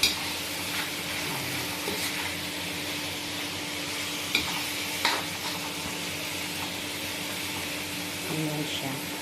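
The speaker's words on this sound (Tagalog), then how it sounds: "Halu-haluin lang natin." Chicken curry with spices being stirred in a favorite frying pan, a steady broadband sizzle with scraping stir strokes and a couple of sharp utensil clinks against the pan throughout.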